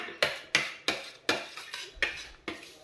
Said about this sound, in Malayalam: അപ്പോൾ നമുക്കിത് ഇളക്കാം നല്ലതായിട്ട്